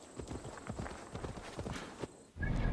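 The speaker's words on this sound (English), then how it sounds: "Get on the horse." Rhythmic hoofbeats of a galloping horse in Assassin's Creed Valhalla, steady and fairly close, followed by a sudden burst of louder rushing noise at the end.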